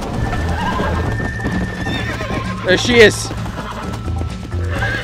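A horse in the Red Dead Redemption video game gives a loud, close whinny midway, with hoof clip-clops and someone talking excitedly around it.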